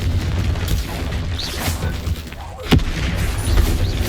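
A Confringo fire blast spell goes off in the video game Hogwarts Legacy, a sharp booming burst near the middle over steady game background rumble and clatter.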